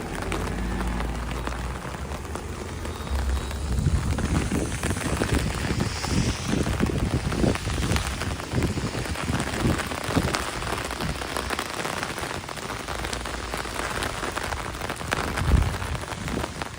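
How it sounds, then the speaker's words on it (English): Rain patters on an umbrella during a May walk in Toronto, a close, continuous crackle of drops with louder bursts, heard without talking over a low rumble of wind and street noise. "So now you're really hearing the rain hit the umbrella right now."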